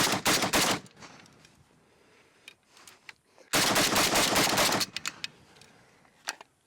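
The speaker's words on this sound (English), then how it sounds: "2 more mags through the SLR 106 and good to go." Rapid strings of rifle fire from an SLR 106 emptying magazines, two loud sustained bursts separated by a quiet pause, followed by a few scattered single shots, close and punchy.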